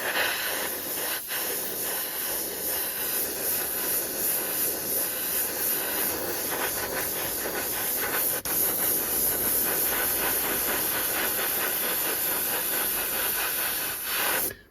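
Airbrush spraying a light coat of dark grey paint over a vintage 1972 Airfix 1/72 scale Mosquito model kit, a steady close hiss of air and paint running almost unbroken for the whole stretch with no talking.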